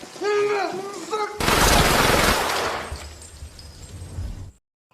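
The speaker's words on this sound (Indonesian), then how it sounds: "Namun ketika Bob ingin menghabisi Anthony, Teddy tiba-tiba saja muncul menembaknya" A loud, sharp gunshot blast from a crime film shootout, where Teddy shoots Bob, bursts in after a brief stretch of dramatic music and rings out into a fading rumble before cutting to silence.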